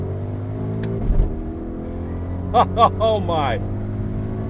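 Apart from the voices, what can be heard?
Audi RSQ8 engine revving on quick paddle downshifts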